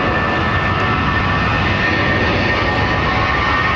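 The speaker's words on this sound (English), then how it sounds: "Is that the breast cancer awareness jet with Delta?" Loud, steady jet engine roar from a Delta airliner at London Heathrow Airport, a continuous broadband rumble and whine with no pauses, heard close and filling the whole stretch.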